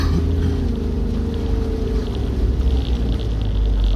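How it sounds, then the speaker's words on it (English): A 4WD vehicle's engine drones loudly and steadily in second gear while climbing a steep track, with a continuous low rumble and wind-like noise throughout. "I just dropped it down to second gear because it started to get really steep again."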